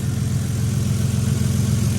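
A 2012 Hyundai Veloster non-turbo with a manual gearbox idles steadily, a low, even, fairly quiet engine hum that runs unbroken from start to end with no other sounds.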